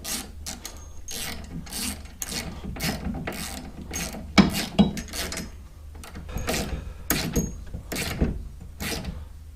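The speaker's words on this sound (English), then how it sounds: "Thread lock on this one too, and we'll tighten this one up as well." A ratchet tightens a thread-locked bolt on a mobility scooter's front suspension arm, giving a close, steady run of repeated clicking strokes with no talking.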